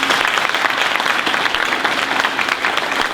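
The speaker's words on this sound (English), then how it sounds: "Please give him a round of applause." Audience clapping for Richard at the Poole's Mill grand opening, a loud, close, steady round of applause filling about three seconds.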